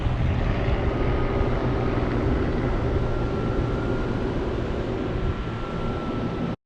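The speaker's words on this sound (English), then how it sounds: "helicopter wash." Strong, steady roar of helicopter rotor wash mixed with aircraft engine noise and wind buffeting at a glider field on a clifftop, loud and continuous throughout with no talking.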